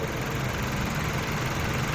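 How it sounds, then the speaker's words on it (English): Turbocharged 3-cylinder engine of a Nissan Magnite idling, heard from outside the car with the bonnet open: a steady, even low hum with continuous mechanical whir and no variation in level. "So this is how the engine sounds on the outside."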